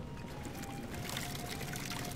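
Water being poured in Skyrim: a steady, continuous splashing pour with no breaks, heard alone and fairly quiet.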